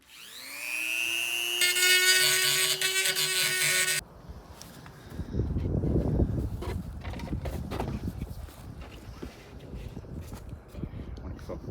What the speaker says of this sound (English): Now I can grind that part down too.